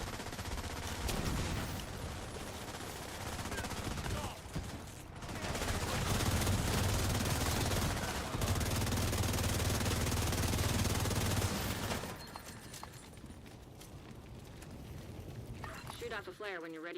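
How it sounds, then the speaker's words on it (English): Gunfire in the video game The Division 2, dense bursts of automatic shots mixed with game sounds, loudest in the middle stretch before easing off, with a person talking over it. "I'm getting blind fired with perfect accuracy."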